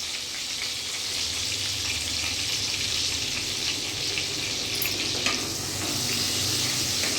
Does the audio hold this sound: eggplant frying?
yes